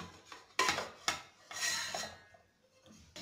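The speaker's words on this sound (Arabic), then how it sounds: "الآن سأقوم بوضعها في هذا الإناء." Cut potato pieces drop and clatter into a bowl in a few separate bursts, with knocks and scraping in between, close up in a quiet kitchen.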